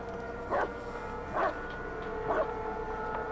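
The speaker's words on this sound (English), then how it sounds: "The dog's freaking out, though." A dog in the video game Blair Witch gives three short, faint barks spaced about a second apart over a steady ambient hum.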